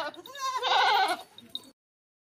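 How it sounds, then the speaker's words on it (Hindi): A goat gives one loud, close, wavering bleat lasting about a second, followed by a brief weaker call before silence. "ये देखें, ये मोटी ताज़ी बकरी है"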